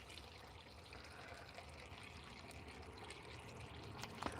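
Water poured into a car's cooling system outdoors, a steady faint trickle and splash throughout, low and continuous with no talking.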